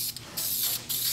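A steady hiss of spray paint or coating covers the top of a Sears saw during a renovation, loud and close, cutting out briefly twice as the nozzle is released and pressed again.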